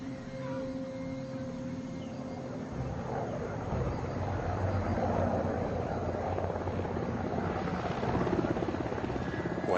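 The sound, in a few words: helicopter approaching in the distance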